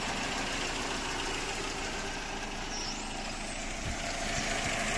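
A steady engine idles nearby, a constant low rumble with a hissing, broadband hum and no changes in speed.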